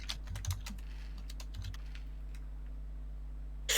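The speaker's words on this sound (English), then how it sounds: "I hate the sound of the DM typing to another player" Typing on a computer keyboard during a Dungeons & Dragons session, a quick burst of clustered key clicks early on, then scattered taps, with a louder clack at the very end, moderately close with no talking.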